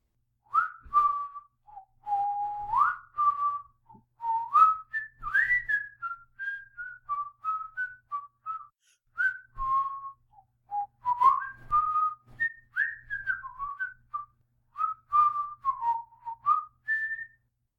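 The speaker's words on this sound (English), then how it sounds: "He whistles, first an air from Robert le Diable, then a popular song, then a blend of the two." A man whistling alone, first an air from the opera Robert le Diable and then a popular song, clear and close, a long melodic line broken by short breaths.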